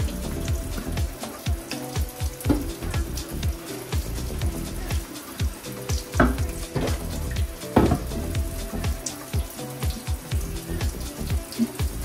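Running tap water splashes steadily into a sink while baby bottles are rinsed and scrubbed, with irregular knocks and squeaks of plastic close by and no talking.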